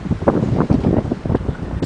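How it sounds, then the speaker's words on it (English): Wind blows in steady gusty buffeting against the microphone, a short close rumbling wash with no talking over it. "yeah, the wind's blowing."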